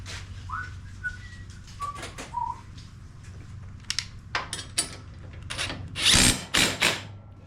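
A ratchet or drill spins a nut onto a bolt with a 7/16 socket on the steering column of a Craftsman R1000 riding mower, giving bursts of rattling and whirring near the end over a low hum, with faint bird chirps outdoors.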